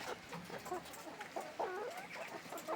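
Heritage chickens on a small farm cluck in a string of short calls at moderate distance over steady outdoor background noise, with no talking.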